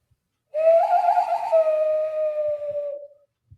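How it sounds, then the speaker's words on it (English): A single sustained hand whistle, close and loud, a breathy hooting tone about two and a half seconds long that wavers then fades out. "I have a really good hand whistle."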